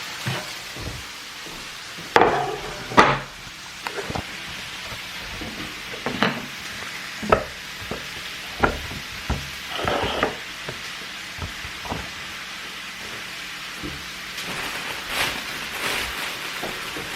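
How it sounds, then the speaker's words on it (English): Smoked gouda rubbed against a grater in a kitchen gives a series of irregular scraping strokes and soft knocks, fairly close, with no talking. "I'm going to go over here and grate this cheese."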